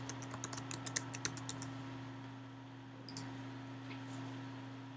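Quick burst of keystrokes on a computer keyboard while a password is typed, about a dozen crisp clicks in the first two seconds and a few more later, faint over a steady electrical hum, no talking.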